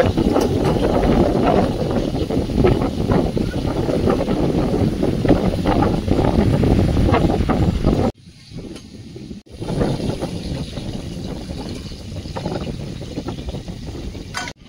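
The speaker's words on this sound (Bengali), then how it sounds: "বিশাল জোর হাওয়া হচ্ছে, প্যান্ডেল কি ছিঁড়ে ফেলবে নাকি ছাদের উপরে?" Strong wind gusts buffet a rooftop tarpaulin pandal, a loud continuous roar with flapping and rattling that drops away abruptly for about a second before resuming somewhat softer.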